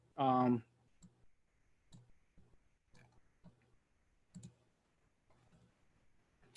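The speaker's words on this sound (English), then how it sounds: "I'm actually just typing that right now." Computer keyboard keys tap in scattered, faint clicks spaced irregularly over several seconds, following a short burst of a voice at the start.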